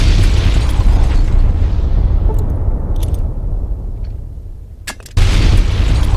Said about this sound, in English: 2 holy hand grenades to the face.